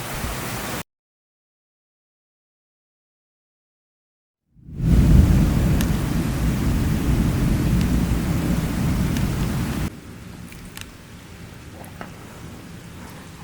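Heavy thunderstorm over Bordeaux: a loud burst of thunder rumble with dense rain noise sustained for several seconds, then dropping to quieter steady rainfall, with no talking.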